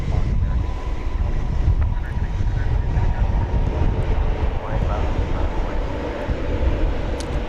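A Korean Air Boeing 787-9 Dreamliner arriving at Dallas Fort Worth Airport from Incheon gives a steady, loud, broadband jet roar with gusty wind buffeting the microphone throughout.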